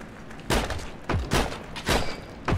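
Gunfire in the World War II shooter Heroes & Generals, four separate sharp shots spaced roughly half a second apart, loud and close, each with a brief boomy tail.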